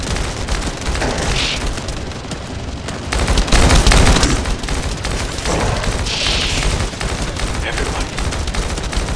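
Dense, sustained gunfire from a sci-fi shooter game, The First Descendant, with rapid bursts and heavy booms that swell loudest midway, voices faintly present beneath the barrage.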